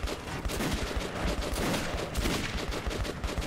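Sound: gunshots in Metro 2033 Redux video game

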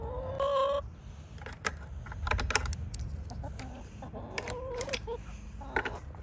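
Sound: chickens clucking in a backyard chicken coop

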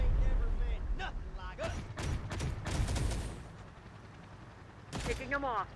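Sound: gunfire in Terminator: Dark Fate - Defiance video game

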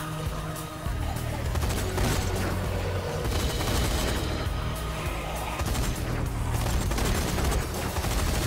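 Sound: gunfire shooting a shark in video game Zombie Army 4

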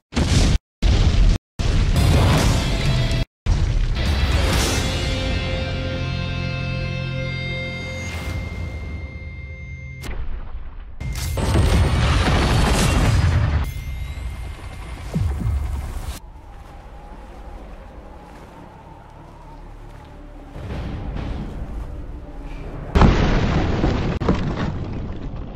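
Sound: explosions destroying Geneva in Call of Duty Infinite Warfare video game

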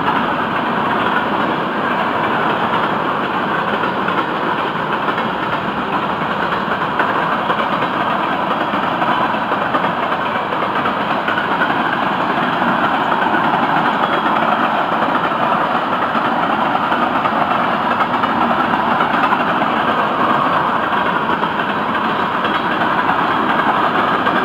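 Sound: freight train locomotive engine idling

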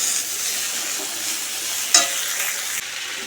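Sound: cauliflower frying in oil

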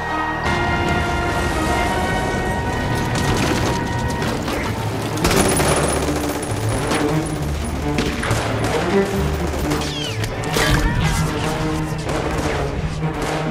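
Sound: gunfire in an animated battle scene

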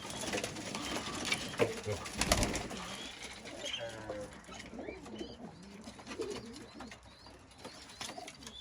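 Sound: pigeons cooing

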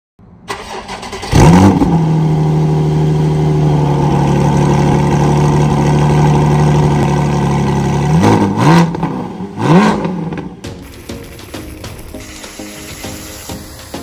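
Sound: Porsche GT4 engine revving while driving

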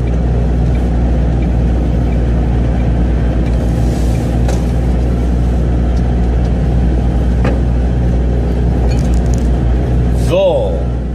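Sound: MAN TGX 480 truck driving into a yard

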